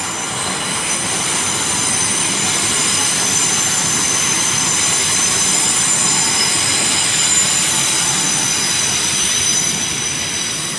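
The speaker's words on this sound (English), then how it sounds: "Coming in now is a terminating Heathrow Express service." A Heathrow Express train pulls into London Paddington, wheels squealing and carriages rumbling in a loud, continuous roar with high metallic screeches running throughout, no voices over it.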